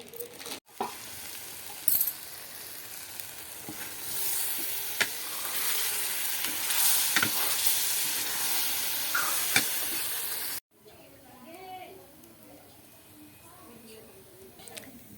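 Peas frying in a pan give a steady close sizzle and hiss that runs for about ten seconds, then cuts to quieter background with faint voices.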